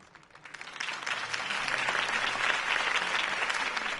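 A crowd bursts into sustained applause in the video game Batman: The Telltale Series, swelling within the first second and holding steady, a dense wash of many hands clapping.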